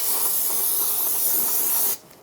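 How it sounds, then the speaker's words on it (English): Brake cleaner sprayed onto the front brake hose area of a 2007-2012 Nissan Altima: one steady, close, loud aerosol hiss lasting about two seconds before cutting off. "I'm going to brake clean"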